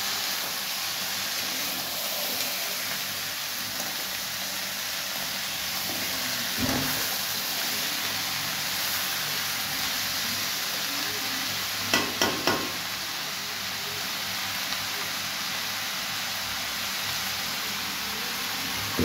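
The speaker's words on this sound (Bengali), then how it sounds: "কড়ায় তেল দিয়েছে, পেঁয়াজ দিয়ে দিয়েছে, টমেটো আলু দিয়ে একসঙ্গে ভেজে নিচ্ছে ভালো করে" Onion, tomato and potato fry together in oil in a wok, a faint steady hiss of sizzling with occasional clinks and scrapes of stirring, heard alone without voices.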